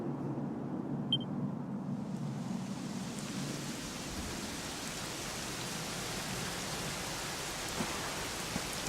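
Heavy rain pours steadily and loudly throughout, a dense broadband hiss on surfaces with no voices over it.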